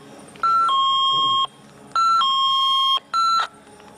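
Motion-sensor alarm chiming three times, each a loud two-tone electronic ding-dong with short gaps between, clear and close with no talk.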